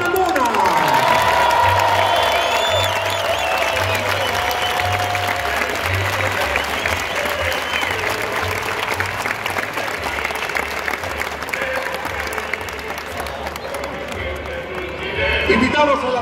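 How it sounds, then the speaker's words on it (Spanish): A packed stadium crowd at Estadio Monumental applauds the Colo Colo 2018 squad during the Noche Alba team presentation, sustained loud clapping and cheering throughout, with a low steady music beat and a voice over a loudspeaker in the background. "el monumental aplaude al plantel de Colo Colo 2018"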